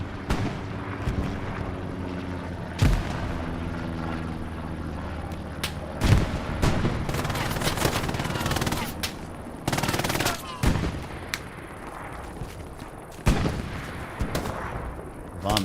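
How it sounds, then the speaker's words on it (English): MG 42 machine gun bursts in the Hell Let Loose video game, rapid gunfire and heavy explosions at close and middle distance, with a commentator's voice underneath. "MG 42. Ferocious trade."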